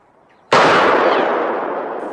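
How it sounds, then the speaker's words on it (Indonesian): A single sharp gunshot rings out in a forest film scene, fired at a glove hung on a tree, a sudden loud crack after near silence that decays into a long fading echo. "Dersu pun berniat mau menguji kemampuan menembaknya dengan menggantungkan sarung tangannya di pohon"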